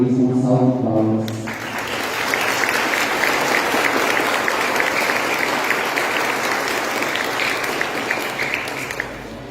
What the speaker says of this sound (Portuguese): a comunidade vai acolhê-los mais uma vez com uma salva de palmas